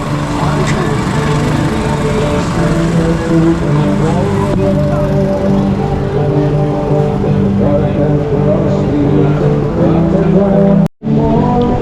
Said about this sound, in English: So there's like a motor running everywhere.